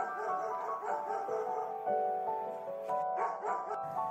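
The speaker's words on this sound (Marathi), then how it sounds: "डॉग म्हणजे कुत्रा." A dog gives a short series of yipping, whining barks in quick succession, clear and close with little else around it.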